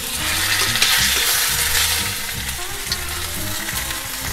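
Loud, close sizzling and crackling of oiled rump steak frying in butter in a hot sauté pan, steady throughout with bursts of spattering.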